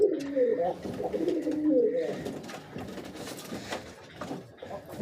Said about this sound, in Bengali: এই যে আমার রেসার কবুতরটা।